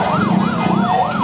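A police siren on a street in Tondo, Manila, a loud, close wail sweeping up and down in a fast repeating yelp, about four cycles in quick succession.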